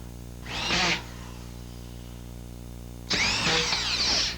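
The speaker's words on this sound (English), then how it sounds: "An alternative to nailing is to use drywall screws and a screw gun." Screw gun driving drywall screws, two loud close bursts of high-pitched whirring, one short and one longer, separated by a pause and set against a steady hum.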